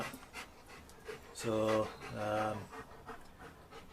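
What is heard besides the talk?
dog panting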